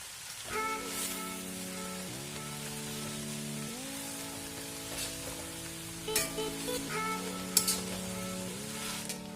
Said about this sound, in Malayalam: ഏകദേശം ഇത് രണ്ട് മിനിറ്റ് എങ്കിലും നല്ലപോലെ ഇളക്കി ഡ്രൈ ചെയ്തെടുക്കണം